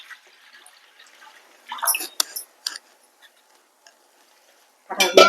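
Dried prawns being rinsed by hand in water: soft drips and splashes with a few sharp clicks, building into a louder wet burst of sloshing near the end, close by and with no talking.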